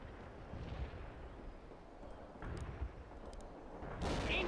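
Artillery fire rains down in World in Conflict, a Soviet assault skirmish on the Virginia map, with dull booms rumbling low and constant and a heavier blast near the end.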